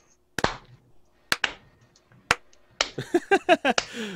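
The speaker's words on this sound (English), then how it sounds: "Real clap. There, real Slow clap. Slow clap." One person gives a slow clap, three sharp, separate claps spaced about a second apart, then a quicker burst of clapping, all close and loud.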